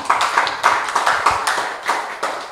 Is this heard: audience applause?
yes